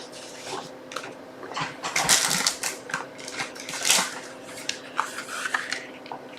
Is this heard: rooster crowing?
no